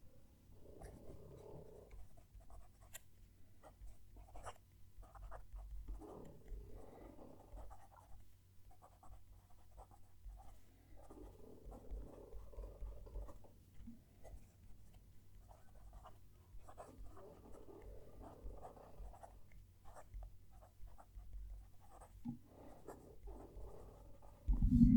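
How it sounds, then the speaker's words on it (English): Nib of a Wing Sung 698 fountain pen writing a sentence on paper, close up: soft scratchy strokes in short bursts with brief pauses between words, faint against low background hum. "We'll move the mic down to the page and write a sentence."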